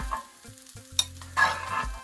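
Cauliflower rice stir-fried in a pan gives short scraping stirs and a light sizzle, with a few clinks of the utensil against the pan, close and fairly quiet.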